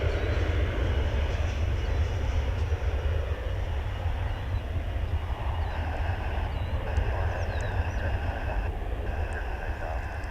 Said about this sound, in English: It's American Flight 399 and Airbus A321